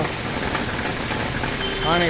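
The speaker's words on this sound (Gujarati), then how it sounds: "પવન પણ એવો જ છે અને જોરદાર વરસાદ વરસી રહ્યો છે." Heavy rain driven by strong wind pours down in Chalala as a constant, dense rushing roar, with a voice speaking over it.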